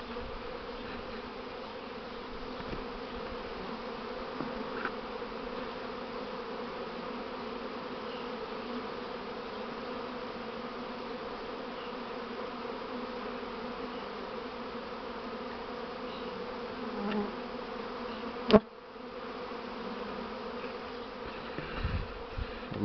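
A steady, dense buzzing drone of an emerging honey bee swarm fills the whole stretch, with a brief sharp click near the end.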